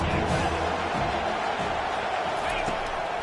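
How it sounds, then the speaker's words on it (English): Dense football stadium crowd roaring on third down in a TCU game, a continuous loud broadband wash of voices with scattered shouts and faint thumps, sustained throughout. "3rd down, and this crowd is tearing the lid off this place"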